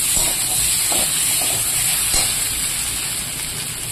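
Potatoes fry in a pan with a steady, loud sizzle and hiss throughout, with a few faint stirring clicks and scrapes now and then as the potatoes are worked in the hot oil for a fish curry.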